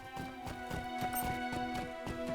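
Horse hooves clip-clopping in the Lord of the Rings Online game, a steady rapid walking rhythm of soft thuds under a sustained musical drone, near and moderately quiet.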